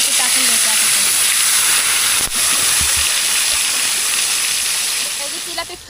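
Spice-coated jilebi fish fry in hot oil in a kadhai, giving a loud, steady close hiss that runs throughout and eases slightly toward the end.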